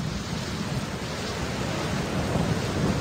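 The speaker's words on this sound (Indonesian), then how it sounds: "Badai sudah turun." A thunderstorm from a Baby Bus children's safety game rumbles under a steady wash of heavy rain, dense and constant throughout, with no voices.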